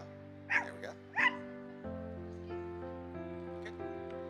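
A dog barks twice in sharp, close yips during a training session, followed by a low droning tonal hum with faint later whimpers.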